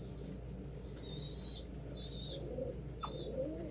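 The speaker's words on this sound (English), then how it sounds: "If you value your hearing, don't raise pigeons." Young pet pigeons give shrill, repeated squealing cries close by over a steady indoor background hum, with a brief flutter near the end.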